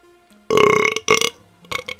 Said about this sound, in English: Let the burps help you.